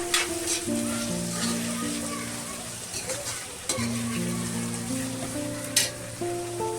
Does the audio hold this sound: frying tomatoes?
yes